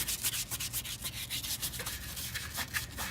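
Scrubbing a surface clean by hand, a quiet run of quick rhythmic brushing strokes, rough and scratchy, close and alone without talk.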